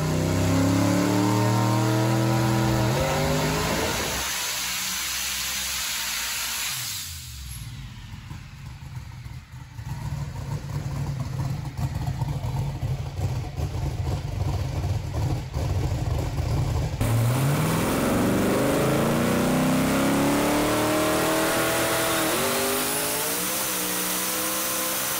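A car engine revs hard and accelerates through the gears, loud and close, its pitch climbing and dropping at each shift, with a long steady pull in a high gear midway.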